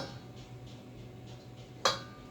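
A hand whisk beating sugar cookie batter in a bowl, giving soft, faint rhythmic swishing strokes, then one sharp metallic clink against the bowl near the end.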